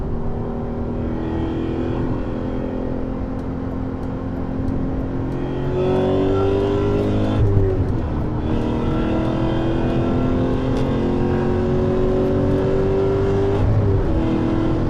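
A BMW E39 M5 with a Dinan S2 engine pulls in third gear, its steady engine drone rising in pitch as it accelerates, shifting tone midway and climbing again, loud and close from inside the cabin with no talk.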